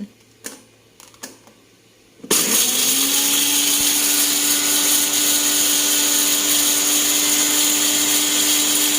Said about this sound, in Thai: เรามาทำการปั่นพริกกันค่ะ